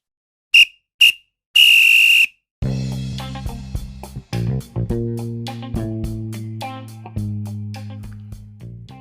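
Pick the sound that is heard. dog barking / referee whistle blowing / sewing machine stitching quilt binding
referee whistle blowing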